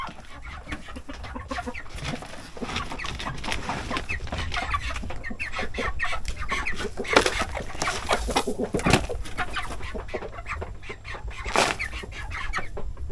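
Native chickens clucking continuously in a busy flock, with occasional louder squawks and wing flaps standing out over the steady chatter.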